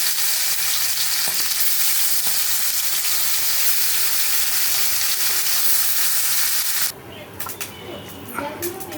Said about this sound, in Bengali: তেলটা গরম হয়ে গেছে এখন আমি মাছগুলো ভালো করে ভেজে নেব